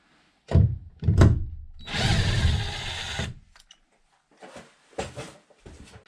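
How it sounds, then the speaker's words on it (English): A power drill turning bolts whirs in short bursts, then runs steadily for about a second, followed by clunks and small rattles of metal parts nearby. "allow you to use your impact or drill to turn these"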